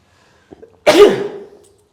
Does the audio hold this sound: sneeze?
yes